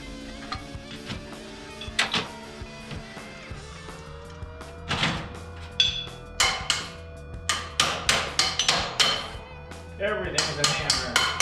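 Sharp metallic hammer strikes on a bent camper bike rack ring out, sparse at first and then in quick repeated bursts, with some speech in the background.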